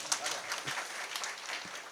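An audience at a comedic kirtan claps for the singers and musicians, a short burst of scattered applause that is moderate in level, mixed with crowd murmur.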